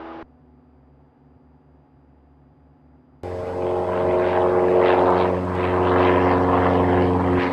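Small propeller airplane climbing after takeoff on a solo flight, a quiet cabin hum that abruptly swells into a loud, steady engine and propeller drone heard from inside.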